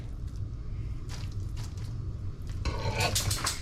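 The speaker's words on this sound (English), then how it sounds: "I'm just using the spatula that I had from the ground beef." A spatula scrapes and stirs in a pan while homemade dog food of ground beef and rice is made, with soft squishing and a few brighter metallic scrapes near the end, close by.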